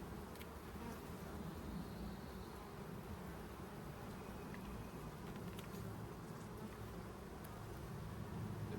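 A mass of honey bee drones buzzes in an open hive, a dense, steady, close hum that carries on without pause and with no voices over it.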